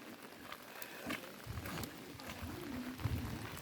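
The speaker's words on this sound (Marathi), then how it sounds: "मस्त पाऊस पडतोय बघा." Rain falls steadily outdoors on a farm plot, a soft continuous patter with a few louder drops and faint background rumble.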